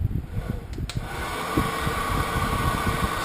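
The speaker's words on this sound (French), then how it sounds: "Je vais remettre en route le sèche-cheveux" A hair dryer runs with a steady, broad airy whoosh and motor hum, starting up and holding a constant close drone for a few seconds.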